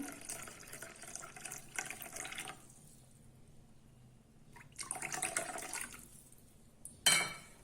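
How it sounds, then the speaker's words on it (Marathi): Water is poured into Karachi halwa batter in two splashing bursts separated by a quiet pause, followed by a sharp clatter near the end. "मी ते पाणी घालत आहे।"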